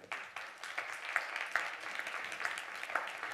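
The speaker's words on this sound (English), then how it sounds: "the applause is giving some energy in the room after the lunch break" Applause from an audience in a conference room after a lunch break, a fairly soft, sustained patter of many hands clapping at once, heard from some distance with no talk over it.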